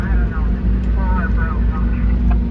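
A forage chopper harvesting unusually tall corn for silage in a Kansas field, a loud, steady low machinery roar with droning engine and cutting noise running continuously throughout.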